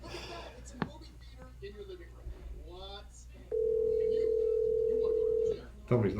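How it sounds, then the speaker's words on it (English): A telephone dial tone hums steadily for about two seconds mid-clip, a plain continuous tone that starts and stops abruptly, with quiet talk and whispering before it and a voice returning right after. "This makes me think of Crank Yankers when I hear that dial tone."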